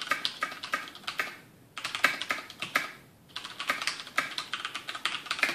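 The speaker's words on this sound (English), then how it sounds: "This is typing at full speed." Fast, continuous clacking of a Cherry MX Black mechanical keyboard typed at full speed, crisp close-up keystrokes in quick bursts with two brief pauses.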